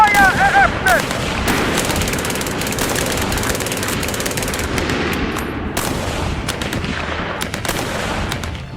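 Wargame battle sound effect of machine gun and rifle fire, with dense rapid bursts and sharp single shots crackling over a rumbling background that continues throughout.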